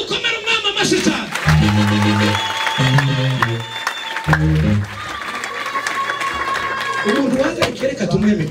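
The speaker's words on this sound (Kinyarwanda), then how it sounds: "Twongera dukomere umwami amashyi cyane." A church congregation breaks into loud applause again, with dense clapping that holds steady and eases slightly partway through, heard under and between a man's spoken words.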